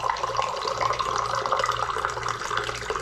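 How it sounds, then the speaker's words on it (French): Water runs from a filter tap in a newly occupied house in Brazil, a steady, close, continuous splashing rush with no voices. "quand on met le robinet en haut, il y a l'eau qui sort du filtre"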